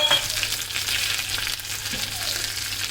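Mustard seeds, urad dal, shallots, a broken dried red chilli and curry leaves tempering in hot oil for pudalangai kootu, a steady soft sizzle and crackle with faint stirring, no talk.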